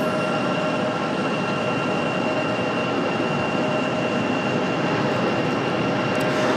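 A Republic Airways airliner in house livery taxis and turns around at Raleigh-Durham International Airport, its jet engines giving a steady, loud, broadband roar that holds evenly throughout.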